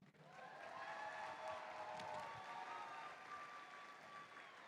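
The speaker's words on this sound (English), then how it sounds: "How about a big round of applause for all of our mentors in the crowd?" Applause and light cheering from the crowd at a FIRST Robotics district event in Woodhaven, a steady wash of clapping that holds for several seconds and slowly eases, with faint voices mixed in.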